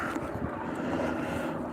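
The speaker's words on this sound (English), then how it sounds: "Oh, there goes a life flight chopper." A life flight medical helicopter passes overhead on a cold Cleveland night, a broad, steady rotor-and-engine roar mixed with wind noise, fairly loud and unbroken, with no talking.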